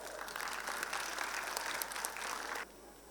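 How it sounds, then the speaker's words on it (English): An audience at a school annual day gives a round of applause for the principal, a dense, even clapping that holds steady for under three seconds before cutting off abruptly. "a huge round of applause for our beloved principal as well"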